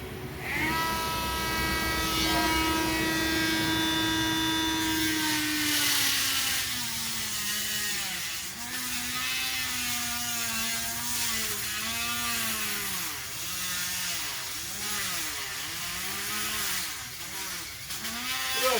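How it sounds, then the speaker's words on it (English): Small Dremel rotary tool cutting through PVC pipe, a close high whine whose pitch drops and wavers repeatedly as the cutting wheel bites into the plastic, running steadily throughout. "Cut off the PVC pipe with my little Dremel tool at 66 inches long."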